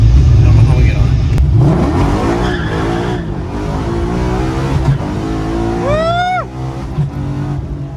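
A Coyote-swapped New Edge Mustang GT roars hard on a high-power pull, its drag radials spinning with a sustained loud engine and tyre noise and a sharp squeal near the end, while excited voices talk over it.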